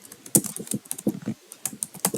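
Rapid typing on a computer keyboard while entering PHP code, with irregular bursts of close, crisp key clicks and short pauses between runs of keystrokes.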